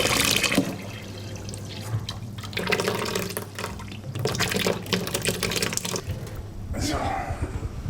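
Tap water runs steadily into a vessel in a Berlin street-food sausage stand's kitchen, a continuous hiss and splash filling up as mustard is made, with someone talking over it.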